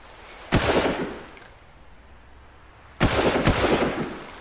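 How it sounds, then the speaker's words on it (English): Gunfire in the video game Far Cry during a beach assault: two sharp, loud bursts of shots about two and a half seconds apart, each followed by a decaying rumble, with a quieter lull between them. "Okay, I shot him a couple times."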